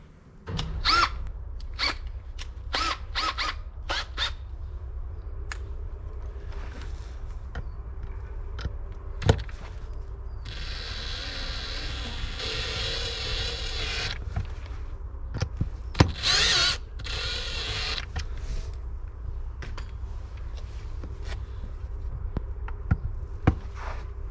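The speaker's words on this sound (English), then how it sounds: "I'm going to drill these holes, get my fish finder mounted" Bursts of a power drill whirring come in and out over a low background hum, with a longer sustained run in the middle and scattered taps between, drilling holes to mount a fish finder on a Seapro 310 HD inflatable boat.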